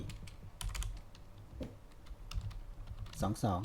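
Computer keyboard typing, quick close key clicks in short bursts while someone speaks in Thai over them.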